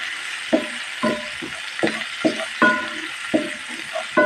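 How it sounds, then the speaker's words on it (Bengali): Onion and green chili frying in a pan while being stirred, a soft sizzle broken by regular scraping strokes of a spatula about every half second. "ভালো করে নাড়াচাড়া করে একটু ভাজা ভাজা করে নেব।"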